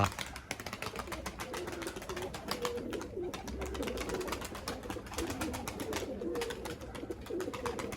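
Tumbler play pigeons, flying birds kept by a Turkish fancier, give rapid crackling wing claps and flutters close by, with low cooing woven through the steady, dense texture.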